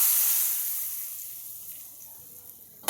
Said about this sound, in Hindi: अब ये तड़का मैं इस पे डालूँगी